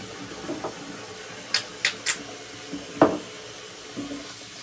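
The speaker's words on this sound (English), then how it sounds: "gotta rinse my hands off with soap" Hands rinsed with soap and water at a sink make a few quiet, scattered splashes and drips, close by and faint, with no talking.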